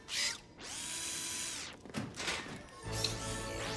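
A cartoon screwdriver whirs as a broken greenhouse heater is repaired: rising and falling mechanical buzzes in short bursts, followed by a sustained grinding whir and a clicking rattle, close and clear with no talk.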